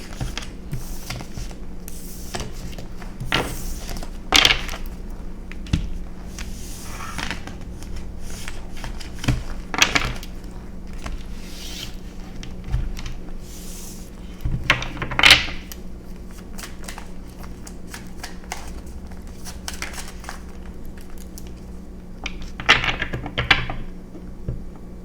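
Tarot cards are gathered and shuffled by hand, producing repeated crisp riffling bursts and soft papery shuffles over about twenty-five seconds, close and fairly quiet, with no talking.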